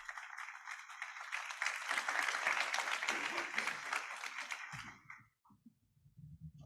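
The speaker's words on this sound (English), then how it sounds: "Please give again a big round of applause to Mr. Takatori" Sustained applause from a conference audience at the close of an international arbitration and mediation panel session, dense and even clapping that fades out abruptly near the end, followed by faint low sounds.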